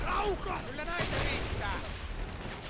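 Rapid cracks of rifle fire in a Valkyrie tournament match of a real-time strategy video game, a few close, sharp reports followed by echoing booms, mixed with faint game ambience.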